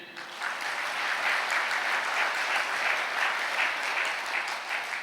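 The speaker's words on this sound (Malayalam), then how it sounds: "ഒന്ന് കൈയടിച്ച്." Congregation at a Catholic gathering applauding, a sustained, even round of clapping from many hands heard somewhat distantly for several seconds.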